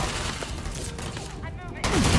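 Sustained gunfire in the video game Starfield, a dense continuous rattle of shots in a firefight that swells louder near the end, with no speech over it.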